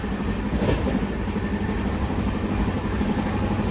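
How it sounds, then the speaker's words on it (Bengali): From aboard the Puri–Digha Samudra Kanya superfast express running near 130 km/h, a loud, continuous roar of wheels and carriage rumble surges steadily with a faint rhythmic clatter. "আমাদের ট্রেন কিন্তু এখন সেই স্পিডে ছুটছে, 127, 28, যা স্পিডটা দেখুন, প্রচন্ড স্পিডে কিন্তু ট্রেন এখন ছুটছে।"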